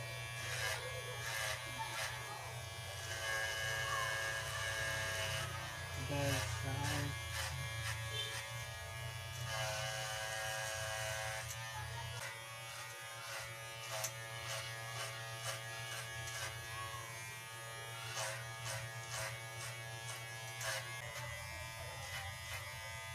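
Electric hair clipper buzzing steadily while cutting thick curly hair, running continuously close by with some background music and occasional talk.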